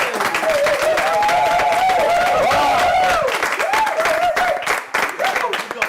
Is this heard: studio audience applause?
yes